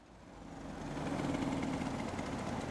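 Simulated Aerolite 103 ultralight engine in X-Plane 12, throttled back to idle: a steady low, buzzing engine drone that holds fairly constant throughout, with no talk over it.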